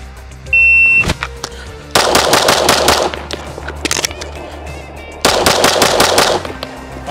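Handgun shots in a timed six-round reload drill: two fast strings of about six close, loud cracks each, separated by a pause for the reload, with a shot-timer beep near the start.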